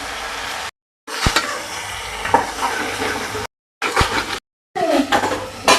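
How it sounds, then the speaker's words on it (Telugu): Tomatoes added to a pan of brinjal curry sizzle loudly as the mixture is stirred, with scraping and hissing close up and brief silent gaps between stirs. "రెండు టమాటాలు అయితే వేస్తున్నాం"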